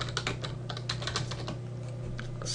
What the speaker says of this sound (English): and then type in